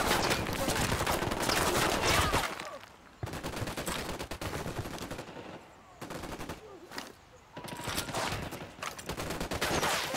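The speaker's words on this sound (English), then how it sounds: "Opening fire." Sustained automatic gunfire in the Ghost Recon Wildlands video game, loud and dense bursts of rapid shots with brief pauses around three, six and seven seconds, continuing throughout with no talking.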